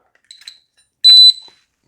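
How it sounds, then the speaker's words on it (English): A single short, bright electronic beep from a Surelock Security Concealed Edition safe rings out clearly after a faint click or two, then silence. "You should hear a beep."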